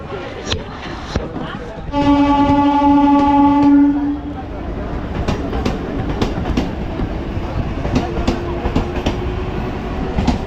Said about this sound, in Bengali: পাশের এই ট্রেনে আমি নামলাম তো ট্রেন এখন ছেড়ে চলে যাচ্ছে